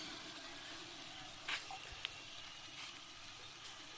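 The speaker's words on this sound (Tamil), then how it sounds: "இதெல்லாத்தையும் நல்லா வதக்கிடும்" Coriander and mint leaves sautéing in a large pot for white biryani cooked for thirty people, giving a steady soft sizzle with a couple of faint clinks, quiet and continuous, with no talking.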